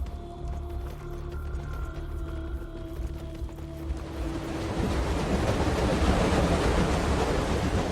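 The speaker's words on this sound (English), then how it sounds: "It's a loud water wheel." A loud water wheel in the video game Tower of Time gives off a churning, rushing wash of water and mechanical rumble that swells louder and denser partway through, continuous with no talking.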